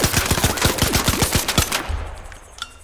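Rapid bursts of gunfire from a weapon with a lowered fire rate in the video game ARC Raiders, about a dozen sharp shots at a steady, somewhat slow rhythm, then a short pause with faint background hum.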